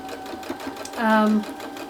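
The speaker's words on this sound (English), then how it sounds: "we'll stitch the other side on and then we'll press." A sewing machine whirs in a short burst as it stitches a quilt border, with a person talking over and around the brief mechanical run.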